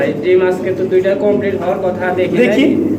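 Beauty pigeons at a pigeon farm give soft, continuous cooing close by, heard beneath steady conversation between people.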